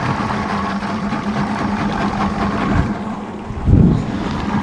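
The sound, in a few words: boat outboard motor starting and running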